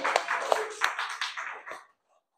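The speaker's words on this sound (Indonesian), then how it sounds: "Tepuk tangan dulu" Brief burst of hand clapping for a student in an online class, a few sharp claps over roughly two seconds before falling silent.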